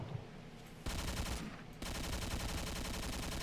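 Rapid automatic gunfire in a video game rattles in loud, fast repeating bursts, pausing briefly before resuming steadily to the end.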